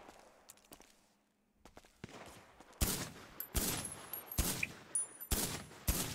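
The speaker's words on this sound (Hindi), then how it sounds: "गोलियां चलाए जा रहे हैं।" Gunfire rings out in a GTA V roleplay game: scattered light shots at first, then loud bursts of rapid automatic fire repeating in several volleys, with no voices.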